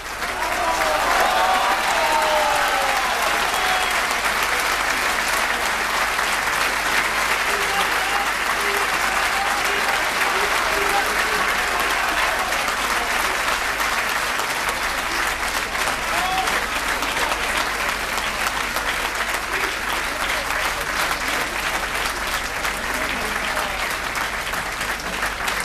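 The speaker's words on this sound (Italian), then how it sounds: "Applauso scrosciante." Thunderous, sustained applause from a conference audience after Claudio Borghi's anti-euro speech in Padova, dense clapping that holds loud and even for the whole stretch with a faint murmur of crowd beneath.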